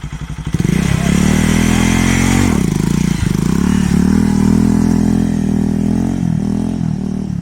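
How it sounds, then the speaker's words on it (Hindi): A motorcycle being ridden for a leg drag wheelie: the engine revs hard and the clutch is snapped out, giving a loud, sustained, close-up roar with pitch dips and surges over about seven seconds. "क्लच दबा के रखा हूँ, क्लच झटके से छोड़ूंगा, एक्सीलरेटर दे के रखूँगा और क्लच झटके से छोड़ना है"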